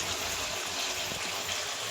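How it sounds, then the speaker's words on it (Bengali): Water mixed with ground spices is poured into a hot wok for a meat ghugni, producing a brief, loud, steady rushing sizzle at close range. "একটা বাটিতে জল দিয়ে আমি গুলে নিয়েছি। এবার আমি এটা কড়াইয়ে দিয়ে দেবো।"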